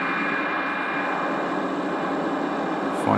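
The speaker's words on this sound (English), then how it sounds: "This is one of those strange, weird noises you hear on shortwave." Strange shortwave noise on a Yaesu FRG-7 receiver: a steady, dense hiss and roar of static with a faint whine, continuous and fairly loud throughout.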